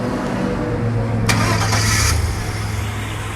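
A Chevy Silverado pickup engine with a bearing noise cranks and catches, turning over briefly before settling into a steady, loud running drone that continues to the end.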